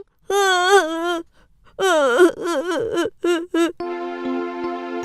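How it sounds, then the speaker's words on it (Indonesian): A baby bear cries in an animated Indonesian fairy-tale cartoon about Goldilocks, a close voiced wailing and whimpering in several bursts, followed by a steady bright musical tone. "Goldilocks mendengar tangisan bayi beruang dan langsung bangun."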